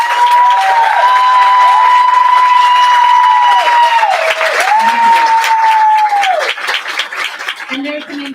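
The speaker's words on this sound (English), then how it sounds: "Could we have a round of applause?" Sustained, loud audience applause fills a town hall gathering, with a steady whistle-like tone running above the clapping before the crowd noise thins and fades toward the end.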